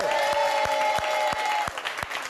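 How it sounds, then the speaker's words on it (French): Lively applause with sharp, dense clapping from a game show studio audience, tapering slightly toward the end. "je voudrais vraiment un tonnerre d'applaudissements pour Ludji"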